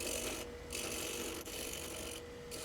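A spindle gouge roughs down a wooden wand blank spinning on a lathe, giving a continuous close hiss and rasp of cutting wood that briefly eases twice as the tool shifts.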